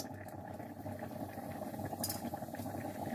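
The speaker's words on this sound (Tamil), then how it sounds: "இப்போ எண்ணெய் கொதிச்சு கொண்டு இருக்குது." Hot oil bubbles and crackles steadily in a pan before mustard seeds go in, a dense continuous sizzle with a faint clink partway through, heard close up.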